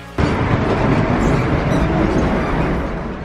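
An EMR HST train departing London St Pancras, heard from inside the carriage as a loud, steady rumbling roar that begins abruptly and holds, with faint rail rattle easing slightly toward the end.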